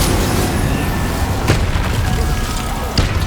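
Incendio fire spell blasts in Hogwarts Legacy, a loud roaring burst of game combat noise with dull booming impacts and sharper pops around the middle and end, dense and continuous.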